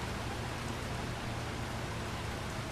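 Steady rain in Farming Simulator 25, a dense, even hiss of falling drops that stays constant and soft throughout with no voices.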